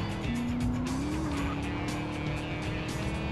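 Car driving in GTA San Andreas multiplayer, a steady engine drone with a rising rev and a brief tire squeal near the start, close and continuous.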